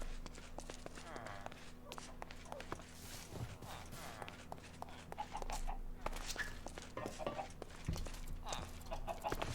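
Chickens cluck faintly in a dark chicken pit inside a video game, soft scattered clucks and footsteps under someone talking.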